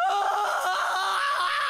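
A sustained, strained scream from a character in the Higurashi When They Cry video game, loud and close, holding for nearly two seconds with a wavering pitch.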